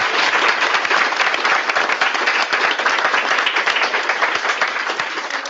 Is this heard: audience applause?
yes